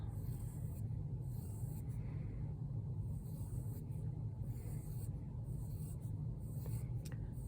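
Soft, continuous scratching of a pencil on paper as grapes are drawn into a still life, faint and close, with steady back-and-forth strokes.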